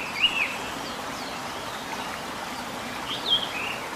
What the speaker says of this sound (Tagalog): Ang ilog na ito ay parte pa ng Bubunawan River na siyang matatagpuan dito lamang sa Baungon, Bukidnon.